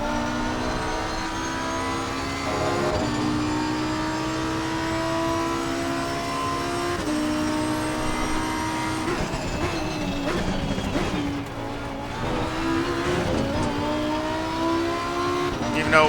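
Lamborghini Huracan EVO race car in Assetto Corsa Competizione at Zolder in the rain, its engine droning steadily with rising and falling revs and gear changes, a voice talking over it throughout.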